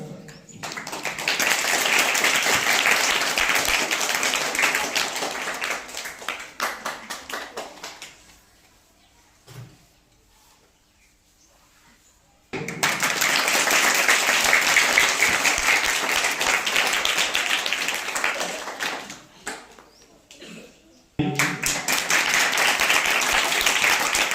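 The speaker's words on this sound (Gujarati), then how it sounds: "તમામ ટીમો માટે જોરદાર તાળી થઈ જાય" Applause for the teams at a school Maths Day event arrives as a loud, sustained burst of crowd clapping, fades into a quiet gap, swells again for several seconds, pauses, then starts once more at the end.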